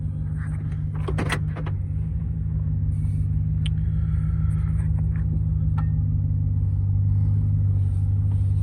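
A 2013 Chevy Silverado fitted with Rough Country struts rolls over bumps at the end of a driveway, giving a steady, loud low engine and road rumble with a few brief knocks and rattles from the body and suspension.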